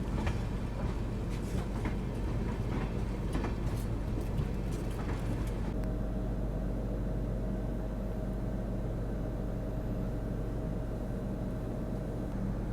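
Train idling at Garhmukteshwar railway station, a steady low engine rumble with a constant hum; a busy crackle of station noise up front drops away midway, leaving the even drone alone.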